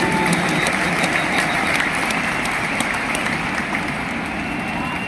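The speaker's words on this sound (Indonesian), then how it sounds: "Tepuk tangan untuk semua yang memilih hadir di sini" A huge campaign rally crowd in a stadium applauds, a broad continuous roar of clapping and cheering that stays dense and even from start to finish, heard from within the throng.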